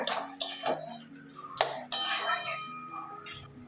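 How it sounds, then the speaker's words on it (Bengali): Metal pot lid lifted and clattered while bottle gourd curry with fish roe cooks, giving several sharp clinks and scrapes close by in a quiet kitchen. "আবারও ঢাকনা খুলছি।"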